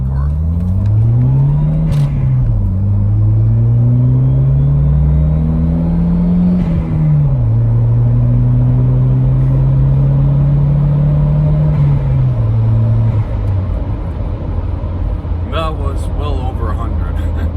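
Volvo 940 Turbo from the 1990s revving loudly while accelerating, engine pitch climbing through several rising sweeps with brief drops between gear changes, close and continuous, with a few faint clicks near the end.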